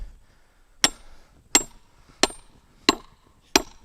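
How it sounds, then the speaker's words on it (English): An 8-pound sledgehammer strikes a splitting wedge set in wood: five sharp, ringing metallic blows, evenly spaced about two-thirds of a second apart, loud and close against near silence. "I'm going to put the wedge in."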